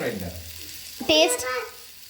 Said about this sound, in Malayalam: മീൻ വറുത്തത് ഇവിടെ ആയിക്കൊണ്ടിരിക്കുന്നുണ്ട്